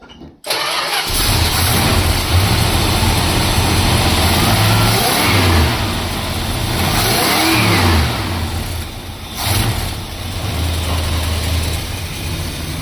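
Mopar barn find car engine cranks and catches within the first second, then runs loud and close, revving up and down in rough surges before settling into a lumpy, steady idle.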